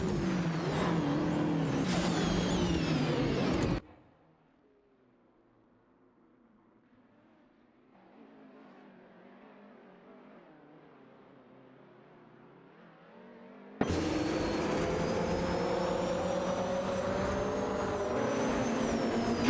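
Engines of racing cars roar in an AI-driven racing video game, loud bursts at the start and end separated by a long near-silent gap with only a faint low hum.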